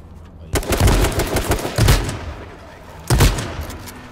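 Video game gunfire in loud, rapid automatic bursts, one long volley followed by a shorter one after a pause, close and dominant, with a voice faintly underneath.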